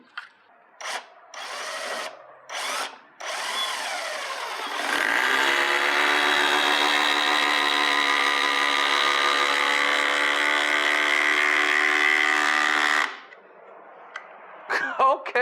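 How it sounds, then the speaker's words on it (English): A Masterforce hydraulic impact driver runs in a steady, loud sustained whir for about eight seconds, preceded by a few short bursts of the tool, then stops. "The Masterforce hydraulic impact driver was a lot more vibrating than the Milwaukee."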